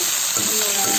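Boiled jackfruit and potatoes frying with lightly browned onions, giving a loud, continuous close sizzle and hiss over a short stretch, with faint tonal sounds partway through.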